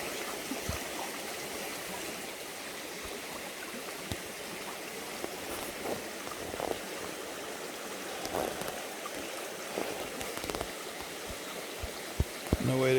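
A rushing stream on a hiking trail gives a steady broadband wash of flowing water, moderately loud, with a few faint knocks and footsteps over it.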